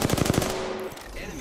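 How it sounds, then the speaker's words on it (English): Rapid automatic gunfire in Apex Legends, a burst of close, loud shots aimed at the player in the opening half second, followed by a lingering tone and scattered game noise. "Shooting at me."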